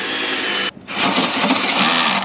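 A power drill bores through the metal of a second-generation Toyota Tundra truck: a loud, steady grinding whine that cuts out briefly and then starts up again for the rest of the clip.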